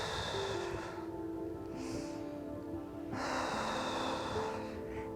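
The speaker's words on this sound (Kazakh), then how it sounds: "жай ғана еріндеріңізді сәл жұмқырып, үрлеп ауа шығарсаңыздар болады" Slow breaths blown out through slightly pursed lips as a breathing exercise, two soft airy exhalations close by over a steady low background hum.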